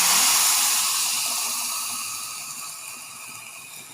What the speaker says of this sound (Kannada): ಇವಾಗ ಮಿಕ್ಸಿಗೆ ಹಾಕಿಟ್ಟಿದ್ದಿದೆ ಅಲ್ಲ ಅದನ್ನು ಹಾಕ್ಬಿಡ್ತೀನಿ